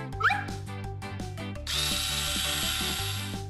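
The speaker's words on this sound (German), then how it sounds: "Ich habe einen Bohrer." A power drill whirs steadily for the second half of the clip while work goes on building a hanging bunk bed, its loud continuous whine sitting over rhythmic background music.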